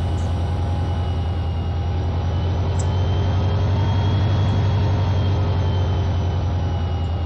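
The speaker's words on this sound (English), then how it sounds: "There's the other train." A train running in the Minecraft Immersive Railroading mod, a loud continuous low rumble with a steady rhythmic pulsing and faint higher whine, heard alone.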